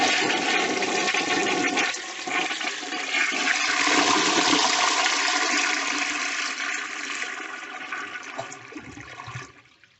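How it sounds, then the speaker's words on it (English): A Standard Modernus toilet flushes with paper in the bowl, giving a loud, close rush of swirling water that continues for several seconds before tapering off and cutting to quiet at the end. "I will end this video on a flush of the standard Modernus with some paper."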